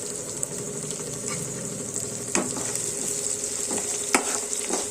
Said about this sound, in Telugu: ఆ ముక్కలు అనేవి మగ్గే వరకు కలుపుతూ ఉండాలి